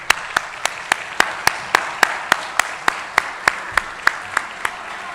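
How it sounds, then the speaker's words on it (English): Clapping at a keynote luncheon for sponsors and exhibitors: close, crisp claps repeating at a fast, even pace, sounding like one or a few pairs of hands rather than a full crowd, over faint room noise. "stand up and give yourself a round of applause"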